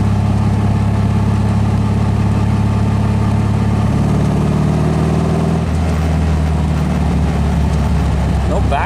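A car engine with a single-port carburetor setup runs with a low, steady rumble close by, its pitch shifting partway through as the revs change.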